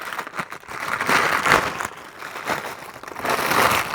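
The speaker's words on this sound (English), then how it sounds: "And we've got a nice little plastic bag that it comes in." Plastic bag around a guitar pedal being handled while unboxing, crinkling and rustling close up in uneven bursts that rise and fall.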